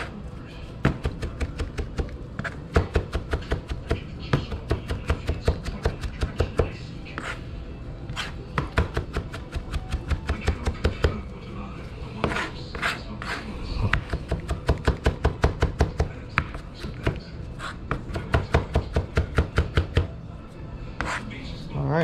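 A knife chops quickly and roughly on a cutting board while ingredients for a smoked fish dip are prepared, giving a dense run of sharp, close, rhythmic taps that carries on for a long stretch with brief pauses.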